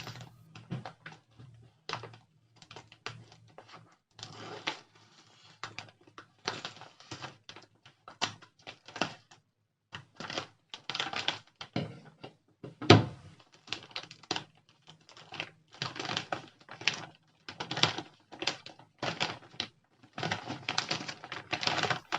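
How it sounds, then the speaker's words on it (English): The paper shipping packet for a professionally ordered PCB is cut open in a long series of crisp, irregular snips and crinkles, close by, with brief quiet gaps and a sharper thump near the middle. "we can now cut the packet open"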